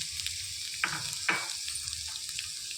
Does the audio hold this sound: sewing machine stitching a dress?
no